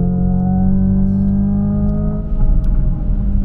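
Simulated combustion engine sound from a Hyundai Ioniq 5 N electric car, a loud steady synthetic engine drone with strong low harmonics, slightly shifting pitch and a rougher, pulsing texture toward the end, heard alone.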